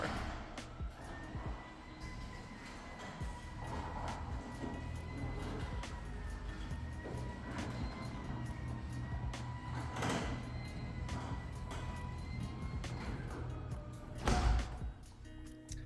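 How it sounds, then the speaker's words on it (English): Garage door opener motor in a newly built luxury home in Sammamish, Washington, raising the garage door with a fairly quiet, steady hum and faint rattles and clicks, ending in a louder knock near the end. "let's hear this garage door"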